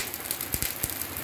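Rain falls in Laos as a dense, constant hiss with a few sharper drops tapping on a surface, close by and steady throughout.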